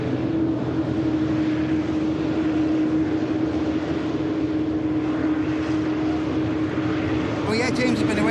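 Aircraft taxiing at Manchester Airport, a steady, close broadband engine roar with a constant hum that holds for the whole stretch, faint voices underneath.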